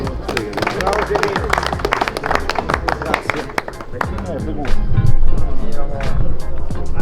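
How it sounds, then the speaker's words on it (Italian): Audience applause at an Italian hound trial prize-giving for hare-hunting scent hounds, a dense outdoor patter of clapping that swells louder near the end, with voices talking over it. "Signore, un applauso a Sichini"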